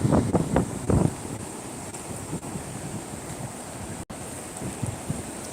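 Sea waves rolling in with the incoming tide, a broad continuous wash of surf mixed with gusty wind buffeting the microphone, with a few louder rumbles near the start.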